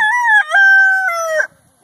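A single loud, close chicken call in a backyard chicken tractor, a sustained squawking crow-like cry of about 1.5 seconds with a strong pitched tone, heard alone without talk.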